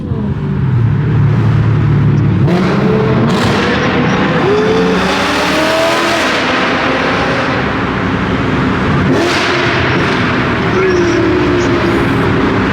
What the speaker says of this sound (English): We're in his E92 M3. Oh man, we gotta make some noise in this fucking tunnel.